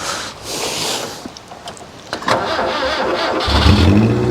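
A derby car's engine cranks and catches, then settles into a rough mid-pitched running note that grows louder toward the end, heard up close with no talking.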